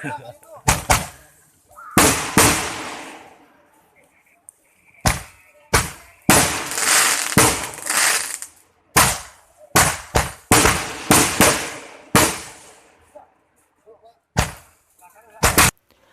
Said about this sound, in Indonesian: Kembang api pun mulai bertebaran di langit Gunung Galunggung dan suaranya sangat menggema